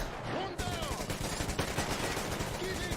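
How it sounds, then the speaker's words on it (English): Heavy Gatling gun fire in the video game Metro Exodus, a continuous dense rattle of rapid shots running throughout with mixed combat noise. "But you can hear that Gatling gun."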